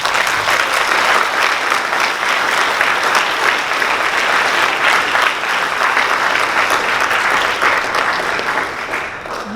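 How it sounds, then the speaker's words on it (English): A large hall of graduating students at an awards ceremony breaks into loud, sustained applause, dense clapping holding steady for nearly ten seconds before easing slightly at the end. "Give yourselves the largest round of applause that you could possibly muster."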